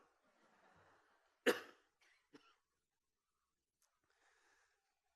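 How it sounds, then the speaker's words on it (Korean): A single sharp, close cough in a quiet room, followed by a couple of softer throat-clearing sounds and faint breathing, with no speech. "기침 나왔네요."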